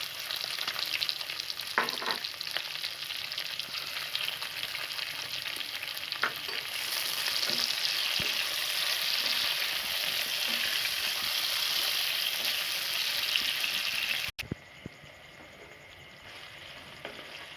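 Red and yellow bell peppers with fried ginger sizzle in a hot pan with occasional stirring scrapes; the crackling stays loud and steady, then drops to a softer sizzle near the end.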